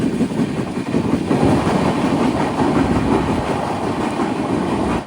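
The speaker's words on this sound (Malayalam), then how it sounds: "ട്രെയിൻ ഇപ്പോൾ ബത്കൽ റെയിൽവേ സ്റ്റേഷനിലേക്ക് ഇതാ എത്തുകയാണ്." A passenger train arriving at Bhatkal railway station, heard from on board as a loud, steady rumble with rhythmic clattering of wheels over rail joints throughout.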